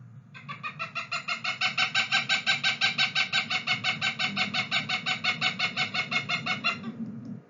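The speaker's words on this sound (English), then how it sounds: "This is Cooper's." A Cooper's hawk calls in a long, rapid series of raspy, harsh cackling notes, evenly spaced and loud. The calling holds steady for about seven seconds, then stops abruptly, with no voices.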